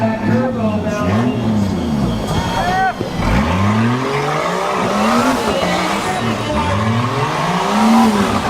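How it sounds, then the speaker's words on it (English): An off-road race vehicle roars through a race, its engine pitch sweeping up and down repeatedly as it accelerates and backs off, with turbo whine and tire noise mixed in, while excited voices talk over it throughout. "You can hear that turbo now."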